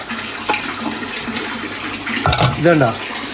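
Water is poured into a curry cooking on the stove, a steady splashing wash that runs throughout, with a brief voice rising near the end.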